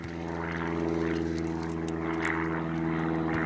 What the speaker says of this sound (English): As soon as I start recording, a flipping old airplane comes over though.